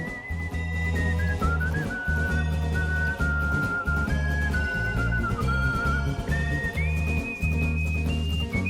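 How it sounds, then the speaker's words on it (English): A lilting whistled melody leads Wild West cowboy theme music from a video game, gliding over a steady, loud backing of guitar, fiddle and bells with a loping rhythmic pulse throughout. "whistling."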